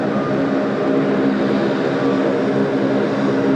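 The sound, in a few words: Boeing 737 MAX departing runway 34 left, Sydney Airport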